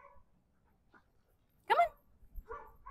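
Dogs bark nearby in a short, sharp burst, followed by a couple of softer yips and whimpers against a quiet background.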